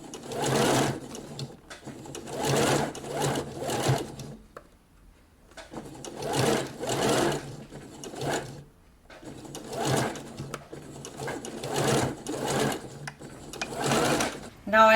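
A sewing machine runs steadily along a blouse sleeve seam, humming in repeated stitching runs of a second or two with brief pauses between them.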